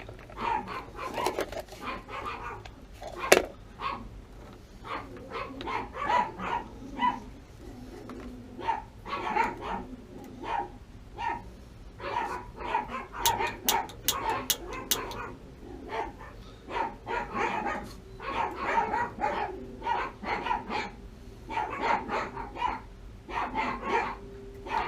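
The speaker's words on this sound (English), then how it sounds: "Can you imagine those dogs barking all night and just keeping you up all night long?" Dogs bark repeatedly in short, irregular bursts over most of the stretch, some yips and whimpers mixed in, fairly close and moderately loud with faint background noise.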